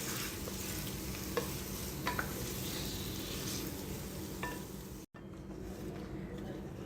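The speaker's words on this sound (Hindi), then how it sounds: "और यहाँ पर अब हम चिकन की भुनाई करेंगे।" Chicken being bhuna stir-fried in a pot for a Lahori murgh cholay curry, a steady sizzle with occasional scraping stirs throughout, close and continuous, briefly cutting out near the end.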